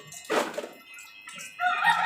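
Chickens cluck nearby in a couple of short bursts, with quiet pauses between them.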